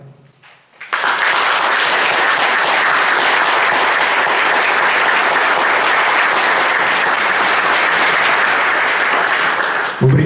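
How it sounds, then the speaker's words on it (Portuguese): Sustained, loud applause from an audience at an anniversary session of a literary academy, a dense, even roar of many clapping hands holding steady for about nine seconds after a brief quiet start. "vamos saudá-los com uma salva de palmas"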